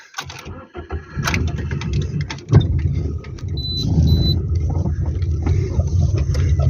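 A GAZ truck loaded with sacks of sugar pulls away, its mid-pitched engine rumbling steadily close by and growing slightly louder over several seconds, with a brief thump partway through.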